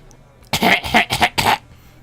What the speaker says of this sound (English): I hear Chad clearing his throat loudly